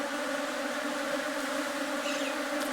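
Honeybees from a merged colony with multiple queens drone steadily around hive entrances, a dense continuous buzz, close and even, with no talking.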